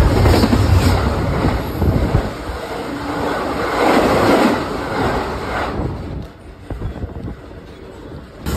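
Rumbling ride aboard a freight train between Oakland and Roseville, with steady rolling noise and rattling, loud and continuous, easing slightly toward the end.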